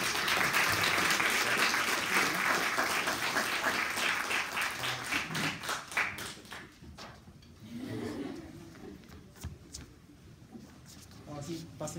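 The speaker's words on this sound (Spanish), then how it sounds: "Por favor, despidámoslo con un fuerte aplauso." Applause from a lecture audience, dense clapping loud at first, then thinning to scattered claps and settling noise, with a few voices talking near the end.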